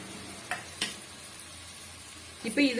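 A steady low sizzle of green chillies and onions frying in a pan, with a few soft stirring scrapes and a brief louder clatter near the end.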